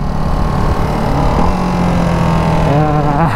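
Ducati Hypermotard 698 Mono RVE single-cylinder engine downshifting on a ride, a close, loud, steady engine note with pitch steps and blips of rising revs near the end.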